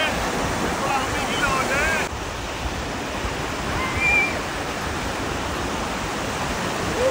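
Ocean waves wash steadily onto a beach in the USA, a loud continuous surf roar with breaking swells and some wind over the microphone.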